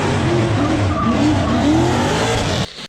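LS7 V8 in a 1990s Ford Ranger race truck with a full stainless exhaust, a loud, close, sustained roar with a rising engine note at a Long Beach event, cutting off abruptly near the end.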